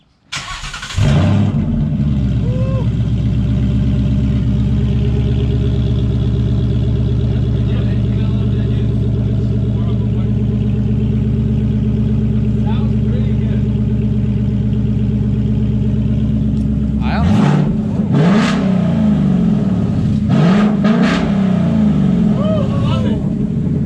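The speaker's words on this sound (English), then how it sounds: "this is what open dump Mustang sounds like." A loud, deep rumble from a 2019 Mustang GT with open exhaust dumps and a Corsa Xtreme exhaust, idling steadily and close by, then revving harder near the end as voices talk over it.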